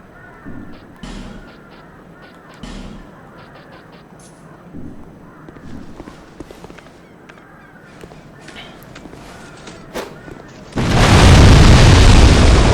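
A fire bomb in Dark Souls II blows open a wall. About ten seconds of quiet ambient clicks and scattered squawk-like calls give way to a sudden, loud, sustained roaring blast at the end.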